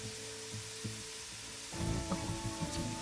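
Onions fry in a pan with added salt, a steady, close sizzle that grows busier and louder partway through as the pan is stirred, with light scraping and clinks.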